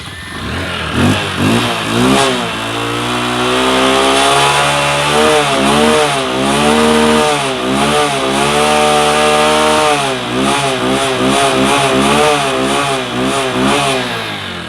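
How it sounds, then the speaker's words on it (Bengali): A second-hand Bajaj Discover 100 motorcycle engine runs steadily up close, rising and falling through repeated revs over a rough idle, loud throughout with no talk. "আমি যদি এখন এই বাইকটি স্টার্ট করে দেখাই"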